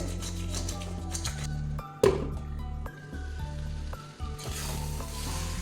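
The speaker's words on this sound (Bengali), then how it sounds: "তিন চার মিনিট একটু কষে নেব মশলার সাথে" Raw jackfruit and soya chunks sauté with spices in a pan, giving a steady close sizzle broken by a sharp clink near the middle and soft stirring scrapes throughout.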